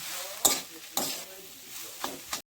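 A spoon scrapes and stirs a cauliflower cutlet filling with garam masala in a sizzling pan. Four or five distinct strokes come close and fairly loud over a low frying hiss.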